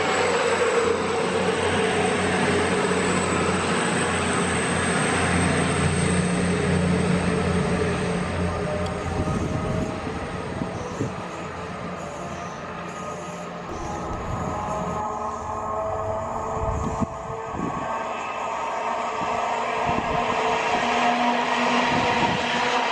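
A train passes close by, a loud, continuous rumbling roar with rattling wheel noise that holds for over twenty seconds, dipping slightly midway before rising again.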